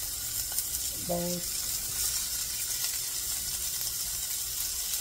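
Chopped yellow and purple onions sizzle in a hot pan with a steady, even hiss, and a voice briefly speaks over it.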